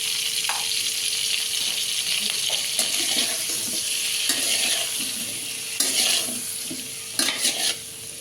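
Food fries in a pan while being stirred, a steady bright sizzle with scattered scraping and clattering strokes of a spoon, close and continuous with no talking.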